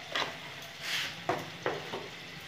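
Spice masala with salt and turmeric sautéing for an egg do pyaza, a quiet sizzle broken by a few sharp spatula scrapes and stirring knocks against the pan, with no one speaking.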